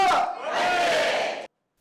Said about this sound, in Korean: 순천시청 양궁팀에서 활약하는 남 선수를 동료들은 뜨거운 환호로 맞이했습니다